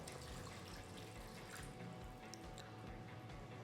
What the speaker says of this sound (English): so I can add a bit of water.